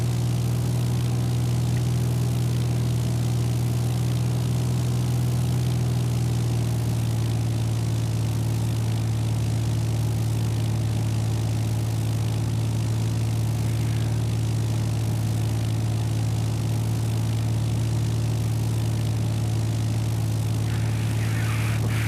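Seaplane engine in flight in X-Plane 11, a steady low droning hum with a constant tone that runs unbroken throughout, with no voices.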